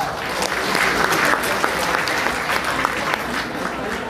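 An audience in a sales seminar hall claps steadily for about four seconds, a dense even patter of applause with no voices over it.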